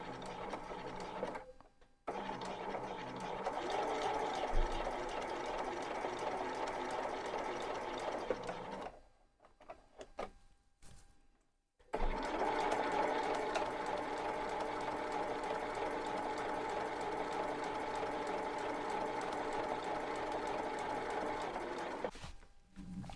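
Steady, fast mechanical whirring from a sewing machine stitching a flat collar, running in long continuous bursts with brief pauses between them, close and loud, with no talking.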